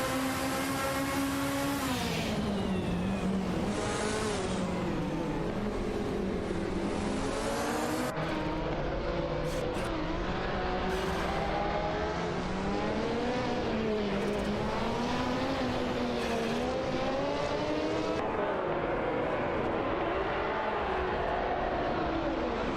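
A Toyota Celica Turbo and a BMW M1 race in a video game, their engines revving continuously with repeated rising and falling pitch sweeps as they accelerate and shift, loud and unbroken throughout.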